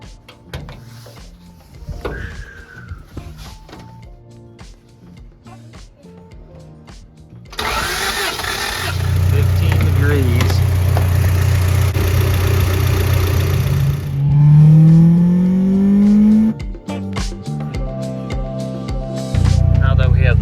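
An H22-swapped Honda Civic engine is heard close up, first as scattered clunks while people talk, then starting and settling into a loud steady idle with a rising whine and shifting revs.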